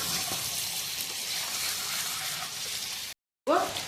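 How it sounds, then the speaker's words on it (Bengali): Boiled mutton frying in oil with onion and garlic, a dense, even sizzle heard up close, cut off by a brief silence before a louder splash of frying resumes. "সেদ্ধ মাংসটা পেঁয়াজ রসুন ভাজার সঙ্গে ভালো করে আগে ভেজে নিতে হবে"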